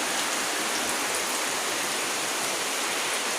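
Steady rainfall, a dense unbroken hiss of drops close by, loud and even throughout with no voices.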